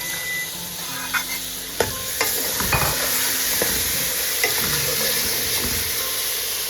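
Minced beef keema is added to golden browned onions in a hot pan, setting off a steady close sizzle with sharp clinks and scraping stirs of a spoon against the pan.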